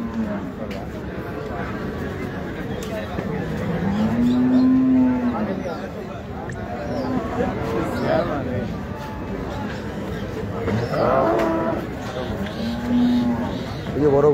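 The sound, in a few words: cattle mooing at a cattle market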